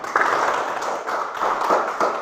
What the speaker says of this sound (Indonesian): Tepuk tangan untuk Yolin.